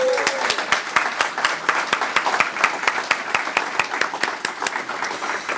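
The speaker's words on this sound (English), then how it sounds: "Let's have a round of applause for all of our York Award recipients." Applause for award recipients at an awards presentation, a sustained crowd clapping with sharp, distinct hand claps audible in a steady, lively rhythm throughout.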